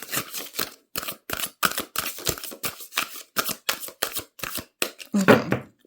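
Tarot cards riffle and snap in a quick run of crisp, rapid bursts, repeated many times close up, ending with a slightly louder flurry.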